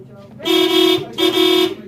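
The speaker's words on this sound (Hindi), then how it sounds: "हॉर्न भी अभी बाज रहा है" A car horn honks twice after a clock spring replacement, two steady blasts of nearly a second each with a short gap between them, loud and close.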